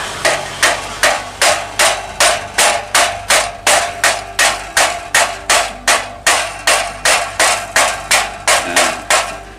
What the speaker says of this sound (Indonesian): tinggal diketok sama kayu seperti ini